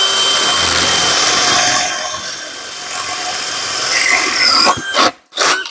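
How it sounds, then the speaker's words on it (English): A DeWalt 20V XR hammer drill in 2nd gear bores through wood with a spade bit, a loud steady whine with grinding that eases midway, then stops abruptly near the end. "when you're using a spade bit or something like that, it is better to put it in 2nd gear"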